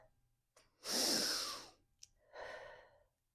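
A deep exhale during a morning stretch on a Power Plate, two long breathy sighs with a short click between, close and fairly quiet, with no talking.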